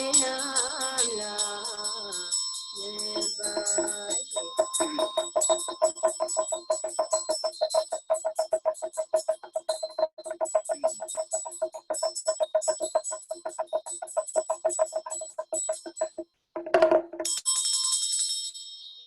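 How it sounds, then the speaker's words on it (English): Ritual bells ringing during a prayer instruction session: rapid, steady rhythmic ringing of small bells with bright metallic overtones, some higher chimes near the end, continuous and close with no talk. "Bell and Tamal"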